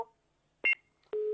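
Telephone line tones after a call disconnects during a Hindi news phone-in, with a short beep followed by a steady electronic tone, alone and fairly faint.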